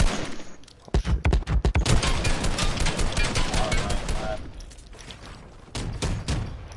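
Rapid bursts of video game shooter gunfire crack loudly, with a dense volley early on easing into scattered shots and steady background game noise, while a voice talks over parts of it.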